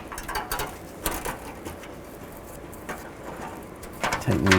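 A hand ratchet tightens bolts on the lower shield of a 2005–2015 Nissan Xterra, giving close, uneven bursts of clicking with pauses between and a louder rattling run at the end.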